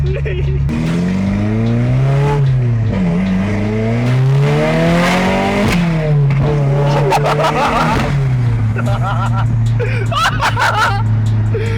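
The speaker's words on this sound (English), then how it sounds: "the spool sounds insane" A turbocharged Subaru STI engine revs up and down repeatedly with a rising turbo spool whine, loud and close, while people chatter in the background.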